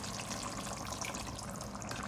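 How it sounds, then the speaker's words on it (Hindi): Water poured into mutton bhuna masala braising in a pan, a soft continuous splashing trickle at low level, alone with no talk. "1/4 कप में इसमें पानी डाल रही हूँ गलाने के लिए"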